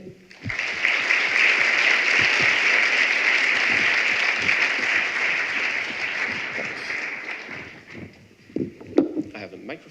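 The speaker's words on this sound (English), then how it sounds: "Please, a round of applause for him." Audience applause for a speaker at a university thesis presentation final, a broad, loud wash of clapping lasting about eight seconds before fading, followed by brief talking.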